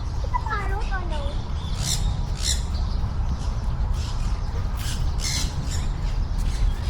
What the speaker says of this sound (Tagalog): Is it a parrot or no?